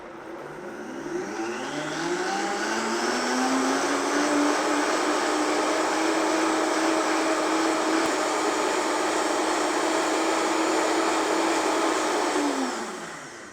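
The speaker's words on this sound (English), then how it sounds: "all we have to do now is just blend it up, drink it, and enjoy. And it'll blend for about 15," Countertop blender whirring a hot chaga chocolate drink, motor spinning up with a rising whine, holding a steady loud buzz for about ten seconds, then winding down at the end; no voices.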